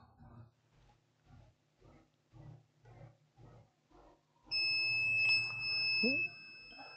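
A circuit tester probes an HP ProBook 4530s laptop motherboard during repair and gives a steady, high, electronic beep lasting about two seconds, following a stretch of quiet speech.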